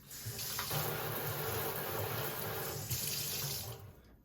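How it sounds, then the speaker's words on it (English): Running tap water rinsing a Savepod coffee pod ring at a sink, a continuous close splashing gush that shifts briefly as the ring moves under the stream, with no talking. "You give this a really quick rinse."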